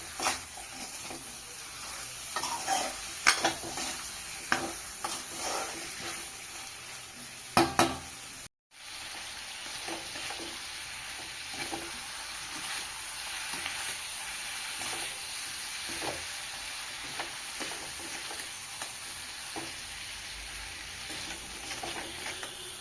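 Chicken curry with a couple of mango leaves being stir-fried in a pan: a continuous soft sizzle under repeated scraping strokes of the stirring spoon, briefly cut off once, with no talking.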